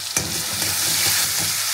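Chopped tomatoes with salt frying in a pan on a home stove, a steady broadband sizzle with a few soft stirring scrapes, close and continuous, no voices.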